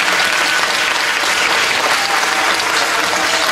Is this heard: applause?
yes